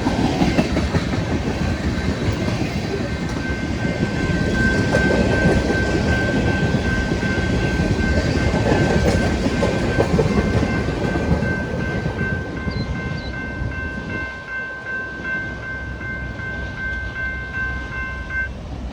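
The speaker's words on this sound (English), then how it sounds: "Our first train we cut over the weekend was this northbound unit train," A northbound freight unit train bound for Wentworth, South Dakota rolls past steadily, a loud continuous rumble of rail cars with clickety-clack and squealing wheel tones throughout, easing slightly toward the end.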